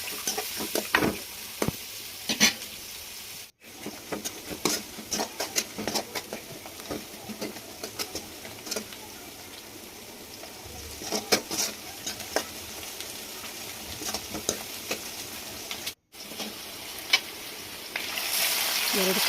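Chopped onions fry in oil for an egg and Mysore dal sambar while a spoon stirs them, a steady sizzle broken by frequent scraping clinks against the pan, continuous and close.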